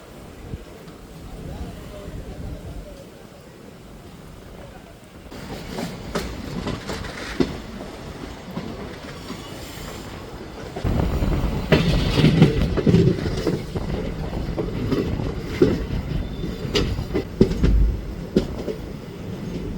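A Madurai–Sengottai passenger train rumbles past a railway crossing nearby with rhythmic clickety-clack from the wheels on the rails, growing louder and heavier in the second half as carriages roll by.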